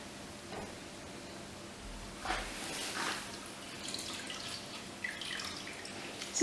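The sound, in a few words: water rinsing and dripping from sponges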